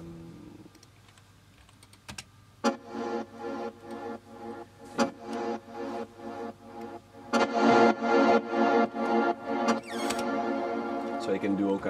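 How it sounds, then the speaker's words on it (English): A sound fed through a long reverb sidechained in a music studio, giving a rhythmic pumping where the wash of reverb swells and ducks in regular pulses, rising in loudness and density toward the end. "With such a sidechains reverb, it sounds something like this."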